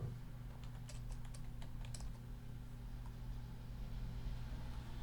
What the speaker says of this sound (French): On va taper.